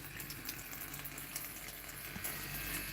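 Water running steadily through an Espring water purifier cartridge, a continuous rushing hiss with faint gurgles and small clinks, close by and fairly quiet.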